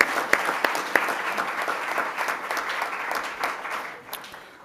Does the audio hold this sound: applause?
yes